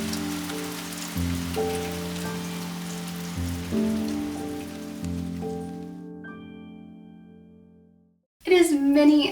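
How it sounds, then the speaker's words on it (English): Steady rain falls on a cozy Saturday afternoon, a soft continuous hiss beneath gentle music notes for several seconds, then near silence before a voice briefly speaks at the end. "The rains are back, and it's just a very cozy Saturday afternoon."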